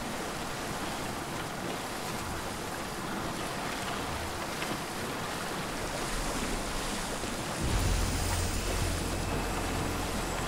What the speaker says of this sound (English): I don't think this boat can take those waves